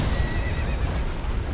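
A horse whinnies loudly and close in the video game Elden Ring, a shrill wavering neigh over a dense low rumble of hooves and noise.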